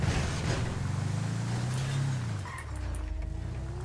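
A car in a video game, its engine droning loud and close with a low hum that rises in pitch, drops off, and then settles into a steadier tone, with wind-like noise over it and no talking.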